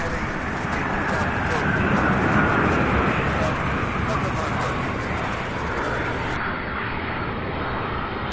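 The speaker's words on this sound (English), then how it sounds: "What a beautiful landing. This one's stopping." A heavy airplane landing at Louisville International Airport, a loud continuous roar of engines and rushing air sustained throughout, with a voice speaking over it.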